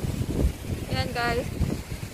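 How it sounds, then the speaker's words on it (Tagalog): Strong, cold wind blows outdoors on a rainy day in Valencia, Spain, producing a steady low rumble of microphone buffeting while a person speaks briefly over it. "Ang hangin!"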